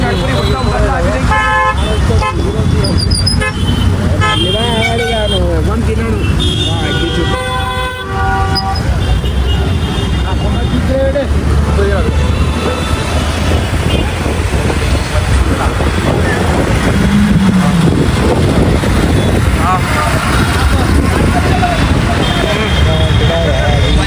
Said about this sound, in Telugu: ట్రాఫిక్ అయితే ఫుల్